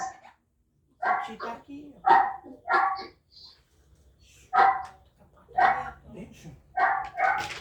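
A dog barks in short bursts, several loud yaps and barks at uneven intervals, close by, mixed with brief Portuguese speech indoors.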